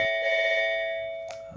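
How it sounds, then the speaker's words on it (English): A phone rings indoors with a sustained electronic tone that cuts off with a brief click, clear and fairly close with no talking. "That's the phone."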